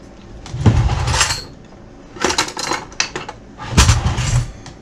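Boxed pasta salad being stirred with seasoning mix in a bowl, giving three bursts of clinking, scraping utensil-on-dish sounds with quieter pauses between, close and without talk.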